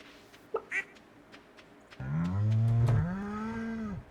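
A cow in Stardew Valley gives one long, loud moo lasting about two seconds, preceded by a few faint clicks and game sounds.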